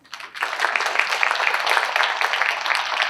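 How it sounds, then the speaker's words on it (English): A crowd applauds at a Phi Theta Kappa honor society induction ceremony at Allegany College, a dense, steady round of many hands clapping that starts after a brief quiet moment and holds at an even, fairly loud level throughout. "let's give them one last round of applause"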